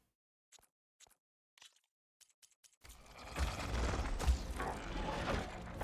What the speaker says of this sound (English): I hear robotic footsteps.